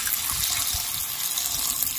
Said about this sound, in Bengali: মাছগুলিকে খুব ভালোভাবে কষে নিয়েছি মশলার সাথে, এবারে আমি জল দিয়ে দেব।